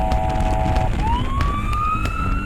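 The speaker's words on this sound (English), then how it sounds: "That right there is clear siren." A vehicle siren wails from a van on the road, first a steady tone then rising sweeping wails, moderately loud over road noise with no talk.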